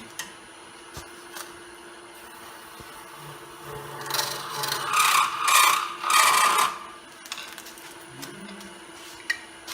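The point of a skew chisel is flattening the front of a spinning wood piece on a lathe at a woodturning demonstration, giving a rising, scraping cut for about three seconds between quieter mechanical hum and faint ticks.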